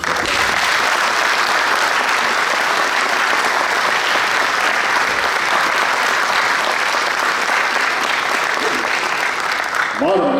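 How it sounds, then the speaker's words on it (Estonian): A large audience at a Pärnumaa Hunters' Union 70th anniversary evening claps for Jaan Liivson in a loud, sustained round that holds steady for about ten seconds before tapering at the end. "Jaan Liivson, kes on alustanud Pärnumaa Jahimeeste Liidust 1989 1. veebruaril, väärib seda aplausi."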